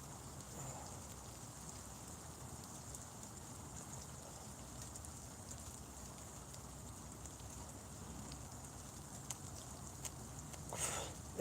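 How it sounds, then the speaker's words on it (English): Rain falls just beyond a bit of roof, a steady even patter and hiss with occasional louder drips near the end, no voices. "I'm just under a bit of roof, so the rain doesn't hit me."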